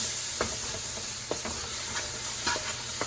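Brown sugar frying in a skillet over reduced low heat: a steady, soft sizzle with a few sharp scraping stirs at intervals, close and fairly quiet, no voices.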